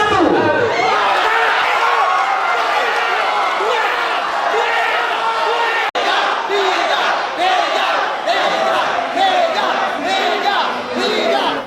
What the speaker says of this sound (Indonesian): Riuh sorak para pendukung masing-masing paslon turut mengiringi prosesi pengundian nomor urut ini